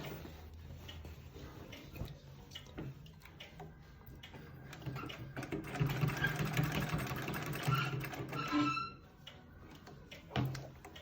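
A vintage Singer 66 treadle sewing machine stitches fabric for a sensory blanket with a quiet, rhythmic mechanical ticking that builds into a fuller run midway before slowing and stopping.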